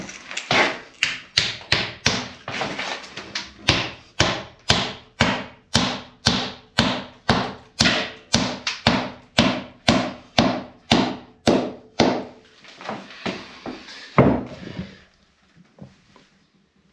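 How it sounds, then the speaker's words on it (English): Steady rhythmic hammer or mallet strikes drive a homemade wooden rawl plug into a drilled hole in a mudbrick wall, about two dozen close, sharp knocks at an even pace, then a final heavier blow and quiet. "So we need a hammer or a mallet, and I've drilled this hole to 12mm"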